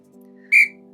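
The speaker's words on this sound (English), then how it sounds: "Sorry for this whistle, all the way in the silence." A sharp, high whistle blast sounds briefly and loudly over a steady low hum during a quiet stretching and mobility workout, with no talking.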